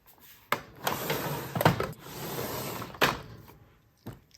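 A makeup storage drawer sliding open, with a sharp knock followed by a rolling scrape and a few clunks, close and moderately quiet with no talk.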